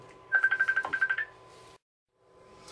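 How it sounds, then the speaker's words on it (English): A phone rings with an incoming call, playing a quick warbling ringtone of about ten rapid pulses that lasts around a second. It then cuts to silence before low room noise returns. "I got a phone call and it cut my video off."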